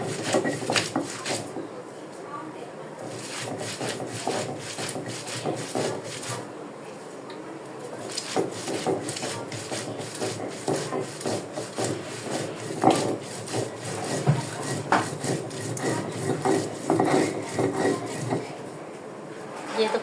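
Mustard and olives are ground on a stone slab with a grinding stone, giving rhythmic rough scraping strokes close by, with short pauses between bursts.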